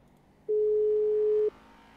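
A steady single in-game phone tone from GTA 5 sounds for about one second, loud and clean against a quiet background, then stops abruptly.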